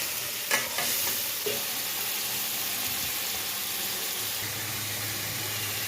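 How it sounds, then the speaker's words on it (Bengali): Boiled bitter gourd is dropped into hot oil, a sharp sizzle after a couple of clattering knocks at the start, settling into a steady gentle frying hiss with no voices. "সিদ্ধ করা করলাগুলা তেলে দিয়ে দিলাম।"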